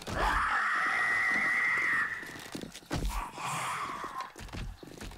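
Screamer zombie in the survival game 7 Days to Die letting out a long, loud shrill scream, then breaking off into shorter wailing cries with footsteps and game noise around it.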